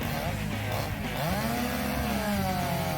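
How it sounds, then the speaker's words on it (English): A Jonsered 2153 and a ThunderKitten 50cc chainsaw cutting into wood together, two small two-stroke engines screaming at high revs with wavering pitch, loud and continuous, under a voice. "Here we go with the tug up, and both saws digging in."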